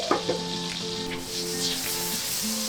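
Grass-fed butter melting in a hot pan gives a steady, close sizzle with light crackle for about three seconds, with faint tonal sounds in the background and no talking.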